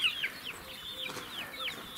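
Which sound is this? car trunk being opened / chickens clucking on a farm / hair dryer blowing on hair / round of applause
chickens clucking on a farm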